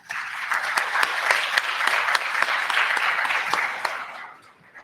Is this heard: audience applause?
yes